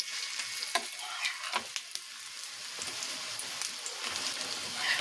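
Lentil fritters (masoor dal bora with onion and green chilli) sizzling in hot oil in a pan, a soft steady crackle with occasional sharper pops and clinks as pieces are flipped one at a time.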